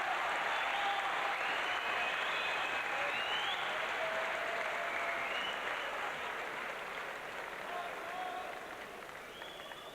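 Boxing match crowd applauding and cheering steadily throughout, a dense wash of clapping and crowd noise, moderately distant, fading slightly toward the end.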